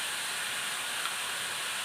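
Onions with salt sautéing in a pan as they are stirred, giving a steady, even sizzling hiss that runs unbroken throughout with no voices.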